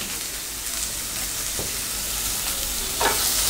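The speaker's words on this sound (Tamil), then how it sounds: "இப்போது குடமிளகாய் இதையும் நம்ம ஆட் பண்ணிவிட்டு வதக்கிக்கலாம்" Capsicum sautéing in a pan for chilli chicken, a dense, continuous close sizzle with a couple of faint stirring scrapes, no voices.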